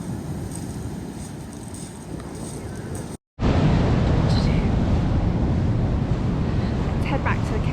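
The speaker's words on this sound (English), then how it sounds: "Just hear the sound of the ocean." Ocean waves roll and wash continuously along the south Iceland coast, with loud wind buffeting the microphone; the sound cuts out briefly partway through, then returns stronger and steady.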